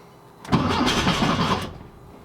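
A 1974 Volkswagen Westfalia camper van engine, unused for about three months, cranks briefly and catches, roaring steadily for about a second before the sound drops away, loud and close.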